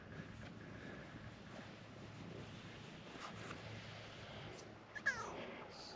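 A cat gives one short, faint meow outdoors near the end, over a low background of wind and distant rumble.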